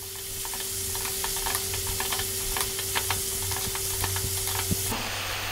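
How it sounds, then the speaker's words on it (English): Vegetables with salt, pepper, thyme, allspice and turmeric stirred in a hot pan for West Indian coconut spicy vegetables, giving a loud continuous close sizzle with frequent spoon scrapes and taps, no voices. "3 more minutes, again stirring pretty much all the way."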